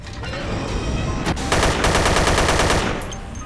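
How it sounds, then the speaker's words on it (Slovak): Sustained automatic gunfire from the zombie shooter Dead Effect, loud dense bursts of rapid shots building and continuing alone across the span. "A otvor to, ideme strieľať."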